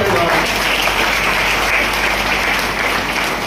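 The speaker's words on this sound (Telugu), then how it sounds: "మీ అందరి చప్పట్లు" An audience at a school merit award ceremony in Kukatpally claps loudly and steadily, the dense applause filling the whole moment, with a voice faintly audible beneath it.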